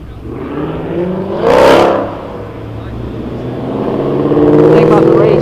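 A Mopar car's engine revs hard during a burnout, swelling to a loud roar at about the midpoint, easing off, then building again toward the end, with steady mechanical drone throughout.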